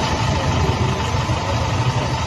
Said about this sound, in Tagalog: Ang lakas nung tunog ng makina, parang truck.